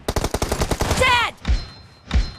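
Video game gunfire from an online match: a rapid burst of automatic shots, then a ricochet-like whine and two heavier single blasts, loud and close.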